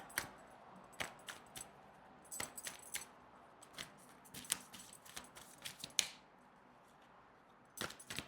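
Tarot cards shuffled by hand in short, sharp bursts of riffling and tapping, several close clusters with brief pauses between them and no voices.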